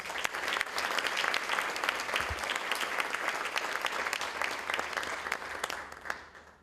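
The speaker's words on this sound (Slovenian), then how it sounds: "Prosim še enkrat za aplavz." A crowd claps continuously in dense, steady applause that carries on for several seconds before starting to fade.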